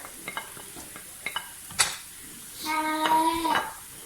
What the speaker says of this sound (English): we're just going to give the rice a little bit of a stir